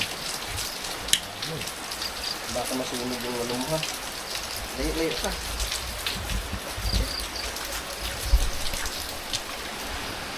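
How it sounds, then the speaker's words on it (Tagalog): Steady rain falls in a forest across the whole stretch, a dense even hiss, while people talk briefly in the foreground. "Patuloy pa rin ang pag-ulan."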